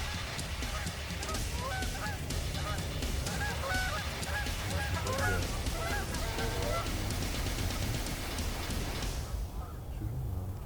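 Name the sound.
flock of Canada geese honking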